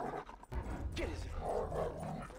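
Dog barking and growling in a video game, coming in as loud, close bursts that overlap and blend with continuous excited talking from a player.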